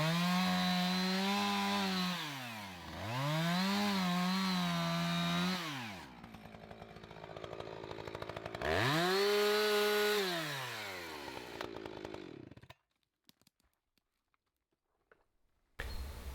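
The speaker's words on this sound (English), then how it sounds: "Two parallel cuts with the chainsaw" Chainsaw cutting into the bark of a native totara tree for ringbarking, a loud engine whine rising and falling over two long cuts, then idling briefly before cutting off into near silence.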